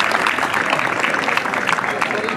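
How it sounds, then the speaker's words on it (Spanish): Crowd applause at a jaripeo in Colima, a steady loud wash of clapping from a large audience that holds for the whole stretch without a break. "Fuerte el aplauso que se oiga"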